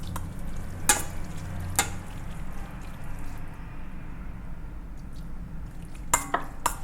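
Chicken wings are stirred into a soy sauce and sake marinade, with a few sharp clinks of a utensil against the bowl over a soft, wet background hiss.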